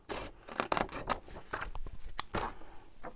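Scissors cut through acetate and card to trim the top off a papercraft project, giving a run of close, crisp snips and crunchy slices with short pauses between strokes.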